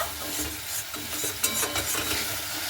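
Spice masala with Kashmiri chili powder and a little sugar is stirred and fried in a wok, a scraping, rhythmic stir over a continuous sizzle at close range.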